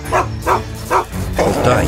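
A dog barks three times in quick succession, loud and close, then gives a longer yelping whine at the end, with no talk.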